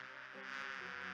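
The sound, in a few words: bees buzzing in video game Discworld 2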